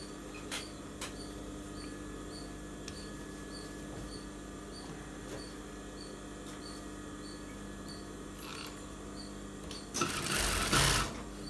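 Sewing machine stitching the collar of a school uniform shirt, a steady quiet mechanical whir running throughout, with a louder, busier burst of stitching near the end.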